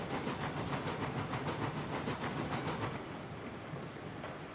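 Train in the Railroads Online video game, a steady rhythmic rolling clatter with puffing and hiss, loud at first and then easing to a quieter rumble, with no talking.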